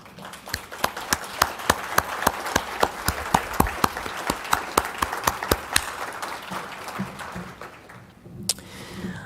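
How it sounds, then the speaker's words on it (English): Applause for directors at a symposium, a brisk crowd clapping with distinct sharp claps rising above the dense patter, then thinning out and fading to a few scattered claps near the end. "can we give you a round of applause?"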